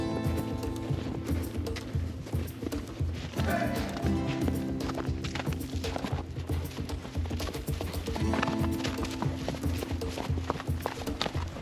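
Horses' hooves clip-clop at a walk on a steep mountain trail during a high-altitude hunting trip, a steady clatter of hoofbeats running through the whole stretch under a loud, constant musical backing.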